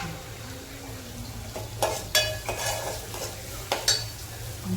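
Shredded cabbage being stir-fried in a pan with turmeric, heard as a soft sizzle beneath several sharp metal spatula scrapes and clinks against the pan, close and unaccompanied by talk.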